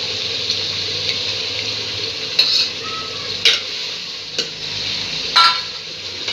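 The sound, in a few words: yogurt being added and stirred into cooked meat in pot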